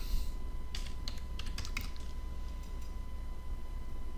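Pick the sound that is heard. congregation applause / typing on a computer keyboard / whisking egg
typing on a computer keyboard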